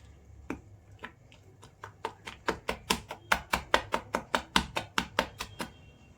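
Batter for egg and chilli bajji being beaten briskly by hand in a bowl, a run of about twenty quick, sharp slapping strokes that speed up and grow louder, close by with no talk.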